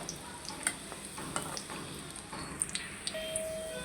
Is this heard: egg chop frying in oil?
yes